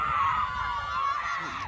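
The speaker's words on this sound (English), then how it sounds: "A lot of screaming." Crowd screaming at a varsity high school lacrosse game, a sustained high-pitched cheer of many voices that holds steady and loud throughout, with a faint whoop near the end.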